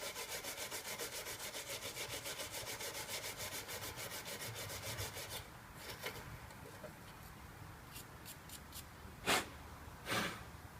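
Brake pads from a Citroen C2 1.1's front disc brakes are scrubbed back and forth against wood in a steady rapid rasping rhythm, fairly faint, giving way to a few scattered scrapes and knocks.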